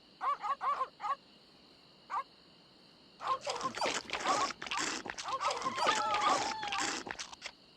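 Dogs growling and barking in The Secret of Monkey Island, with short sharp yaps at the start, then a longer, busier run of snarling barks in the second half.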